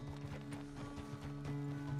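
Horse hooves clip-clop in a steady, fairly close rhythm in Red Dead Redemption 2, walking over ground beneath a sustained low tonal hum of game ambience.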